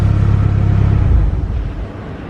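A red Nissan S15 Silvia's engine idles smoothly up close, a steady low rumble with a faint whir and no tappet clatter, easing down slightly in level toward the end.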